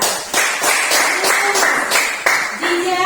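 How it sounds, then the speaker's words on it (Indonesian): A classroom of junior high school students clapping their hands in short, rhythmic bursts of several claps each, loud and close, with a voice briefly heard between the bursts. "Tepuk tangan untuk Hadijah."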